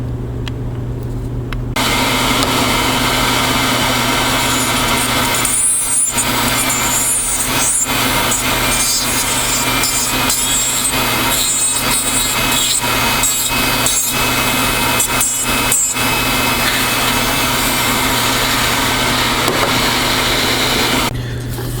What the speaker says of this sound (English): take football burr on a slow speed and just round everything off